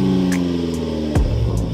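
A car engine idling, then briefly revving as the driver applies the gas, with a few short knocks over the low hum.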